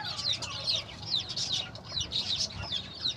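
Country chickens cluck continuously in a rooftop coop, a busy flock of overlapping short calls close by with a steady rhythm, with no talking.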